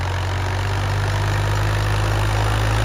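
A steady, low mechanical rumble of a tractor engine idling close by, unchanging throughout with no voices.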